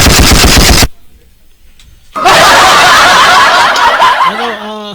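Firecrackers burst in a rapid, loud crackling volley for the first second, then a pause, then another long, dense run of pops and crackles that carries on to the end of the clip.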